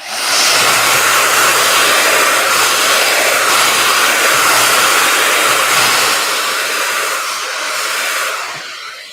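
A hair dryer blows loudly and continuously at close range while drying hair, its whooshing roar holding steady and easing slightly toward the end, no speech.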